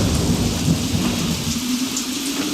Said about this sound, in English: Weather report, it's raining.